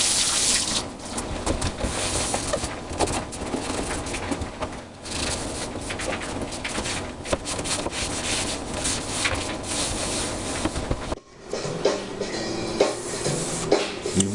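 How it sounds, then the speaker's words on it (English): A rag scrubs steadily across a countertop being refinished with a Giani countertop paint kit, a loud, close, continuous rubbing broken by a short pause, then a softer stretch of wiping and water near the end. "So we'll just keep running this over this and cleaning this and rinsing this rag until it's clean."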